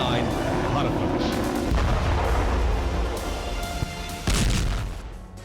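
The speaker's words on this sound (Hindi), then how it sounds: "रूस के वोल्गोग्राद में सिलसिलेवार धमाके हुए हैं।" Series of heavy explosions on a Russian gas supply line in Volgograd, loud rumbling booms and blasts rolling one after another, with a sharp fresh burst near the end.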